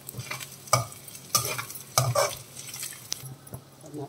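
Garlic mutton keema frying in a pan is stirred in a few distinct scraping strokes over a steady soft sizzle, close and alone with no talking.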